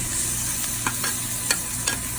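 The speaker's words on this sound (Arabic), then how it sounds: "نحط البهارات." Spices being stirred into potatoes in a pan, a soft steady sizzle with a few scraping stirs of the utensil, close and continuous with no voices.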